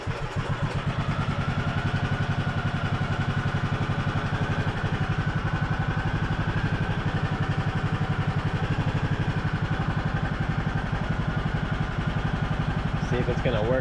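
A Poulan riding mower engine runs steadily and loudly close by, a continuous low chugging idle with rhythmic clatter that holds throughout without any break.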